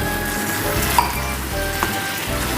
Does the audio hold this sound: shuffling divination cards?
no